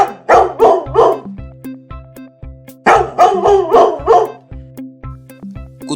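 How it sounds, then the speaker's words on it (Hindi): A village dog barks loudly at night at intruders, in two bursts of three or four rapid, close barks with a pause between them, heard alone without voices. "अब कुत्ता जोर जोर से भौंकने लगा।"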